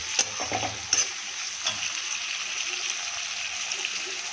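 Tomatoes fry with fish masala in a pan for an aar fish curry, giving a steady, hissing sizzle up close, with a couple of brief knocks at the start and no speech.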